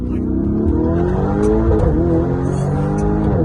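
A 650-horsepower Lamborghini Urus revs hard nearby with its exhaust valves open, a loud throaty roar rising and falling as it accelerates, with no talking over it.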